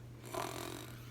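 A voice imitates a sleeping train engine snoring, one soft breathy snore lasting about a second over a low steady hum.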